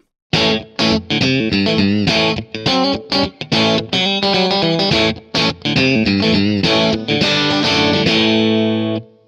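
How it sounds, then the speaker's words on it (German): A slightly overdriven electric guitar played through a Kemper Profiler amp plays a quick, choppy riff of short chords, then lets a final chord ring out. "Dann kommt ein leicht angezerrter Sound auf Slot 2."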